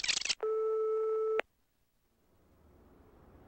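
A telephone busy signal after a wrong-number call in Policenauts: a burst of noise, then one steady electronic tone lasting about a second, cutting off into quiet hiss that slowly swells.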